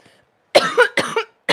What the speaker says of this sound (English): it's a weed cough, not a COVID cough